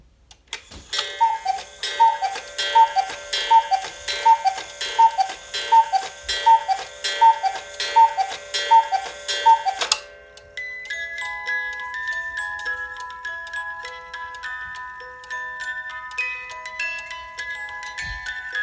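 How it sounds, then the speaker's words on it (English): A cuckoo clock ticks in an even, steady rhythm with bright metallic chimes over it, then shifts to a sparser ringing pattern partway through. "Tick tock, tick tock. Yes, it's a clock."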